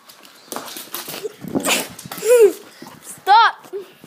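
Dog barking and yelping in bursts while play-fighting with a person, several sharp rising calls close by, mixed with laughter and shouting.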